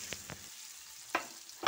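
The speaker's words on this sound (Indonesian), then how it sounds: "Tumis bumbu kacang yang tadi sudah kita blender sampai matang." Blended peanut spice paste sautéing in hot oil, a quiet steady sizzle with a few short scraping stirs standing out, no talking.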